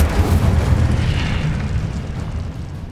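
An Incendio fire spell blast in the video game Hogwarts Legacy: a loud, deep, rumbling fiery burst that swells at once and then slowly fades over a couple of seconds.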